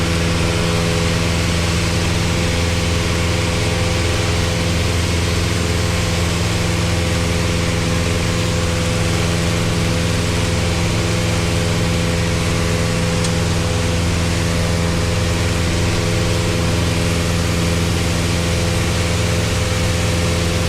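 Light aircraft piston engine running on a fuel-air mixture, a steady loud drone with strong low harmonics and constant pitch throughout, no talk.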